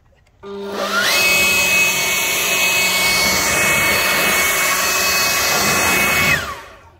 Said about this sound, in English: I finally got cordless for my leaf blower.